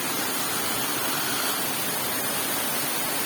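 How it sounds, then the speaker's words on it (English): A roadside waterfall pours in a dense, steady rushing roar, close and loud, filling the air with unbroken broadband noise and no voices. "this whole road is full of waterfalls like this"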